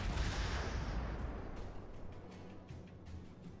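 Battleship guns firing in World of Warships: a heavy, rumbling boom at the start that slowly decays into a low roar, with faint distant thuds following.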